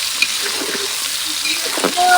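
A splash of water hits frying onions for a beef curry, raising a close, continuous sizzling hiss with faint voice sounds in the background.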